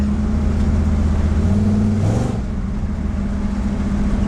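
An early style Chevy with a stiff ride, heard from inside while driving, its engine giving a steady, uneven lope with a brief change in pitch partway through under constant road rumble.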